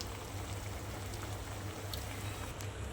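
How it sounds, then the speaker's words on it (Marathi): Fish curry broth with wam fish bubbling at a steady boil in a pan on a gas stove, a soft continuous simmering hiss with faint pops, no voices. "एक मोठी उकळी काढून आता बंद करूया गॅस"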